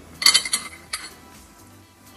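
Kettle and cups clink and rattle while capim-santo herbal tea is made, a quick burst of dish-and-cutlery clatter followed by a lone knock and a final clink, close and clear with no talking.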